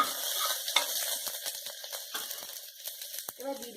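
Garlic cloves and ginger sticks fry in oil for a chicken stew, a steady sizzle with scraping stirs and light clinks of a utensil against the pan, close and moderately loud, with faint voice-like sounds in the background.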